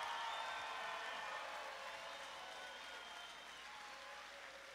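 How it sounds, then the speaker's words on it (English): Audience at the Whitney Point Central School 2018 graduation ceremony applauds the graduating class: a sustained, dense wash of clapping from a large crowd that slowly eases off, with no one speaking over it. "Give them a round of applause."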